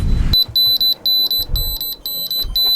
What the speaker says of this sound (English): the collision alarm has just gone off